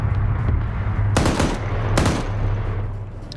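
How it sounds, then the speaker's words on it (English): .50 caliber machine guns fire in an Arma match, with loud, dense bursts over a constant low engine-like rumble and two sharp, bright reports standing out. "now you got the 50 cals going"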